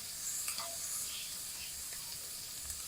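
Onions sizzling in a pan used for braising beef short ribs, a soft steady hiss with occasional light clicks of stirring, fairly faint and close.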